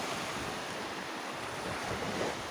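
Sea waves wash onto a beach in a steady, loud roar of surf with wind buffeting the microphone, continuous for the whole stretch with no voices.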